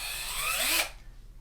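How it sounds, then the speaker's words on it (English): A handheld power drill whirs close to a sampler's built-in microphone, a steady high buzzing whine that holds for under a second and then cuts off, leaving faint room noise and a few small clicks. "I'm gonna hold the drill up next to the SP-404"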